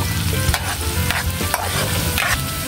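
String beans frying in a pan for adobong sitaw, stirred with a utensil: dense, loud sizzling close up, broken by scraping strokes of the spoon against the pan roughly every half second, with no talking.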